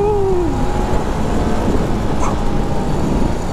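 Hunter Scrambler SK500 motorcycle pulling away through first and second gear, a loud continuous engine drone with rising pitch early on, mixed with steady wind rush while riding.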